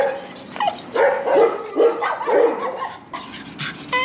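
Dogs barking close by in a Chilean suburb, a run of sharp repeated barks mixed with yips and whines, loud and fairly continuous.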